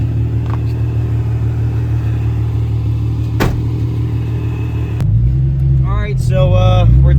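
Supercharged Nissan 350Z heading out on a test pass, its engine rumbling steadily at close range before a sharper rising rev builds toward the end.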